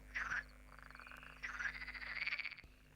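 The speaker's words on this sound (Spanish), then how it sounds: "es frecuente encontrar grupos de ranas y sapos que se agrupan en las charcas para aparearse" Frogs and toads croak at breeding ponds on a mild spring night, a rapid pulsing chorus rising and falling in two main bursts, faint and distant with steady background hum.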